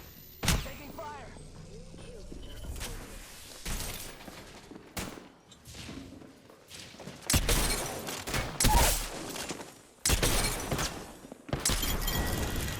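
Incoming gunfire in the video game Apex Legends, loud bursts of shots and impacts arriving in clusters across the stretch, mixed with game effects and a voice talking over it.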